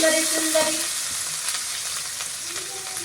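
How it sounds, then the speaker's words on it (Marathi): Paneer curry ingredients sautéing in oil in a pan make a close, steady sizzle, with a few soft scraping stirs near the start and light crackling pops later. "तर व्यवस्थित अशी ती परतवून घ्यायला लागली"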